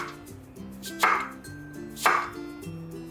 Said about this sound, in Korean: 호박은 5cm 길이로 자른 후 3등분하고 3mm 두께로 썰어주세요.